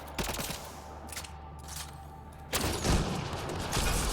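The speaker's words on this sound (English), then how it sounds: "I don't need to shoot this, but I'm going to shoot this" Rapid bursts of gunfire from Mass Effect: Andromeda crackle at close range in clustered volleys, pausing briefly before a heavier, sustained burst near the end.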